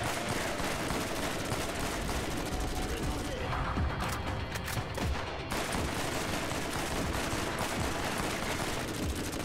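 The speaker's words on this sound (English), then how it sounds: "Bit of recoil on this thing, but it's an assault rifle." Assault rifle fire in the Borderlands co-op shooter, dense rapid bursts running nearly the whole time with a short lull in the middle, loud and close amid constant game noise.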